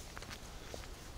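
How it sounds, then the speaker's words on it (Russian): Someone runs past in quick footsteps, faint and fairly distant, a few light scattered impacts under steady background noise. "вот это он бегает"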